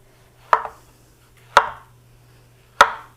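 A knife slices a peeled plantain diagonally on a cutting board, giving three crisp, evenly spaced chops close by in an otherwise quiet kitchen.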